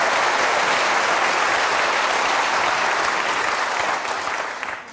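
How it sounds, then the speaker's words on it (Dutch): Sustained, dense applause from a television studio audience, loud and steady throughout before thinning slightly at the very end, with no talk over it. "misschien even eerst een aanmoedigend applaus"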